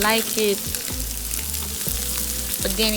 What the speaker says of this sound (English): So I am going to saute that and like fry it a little bit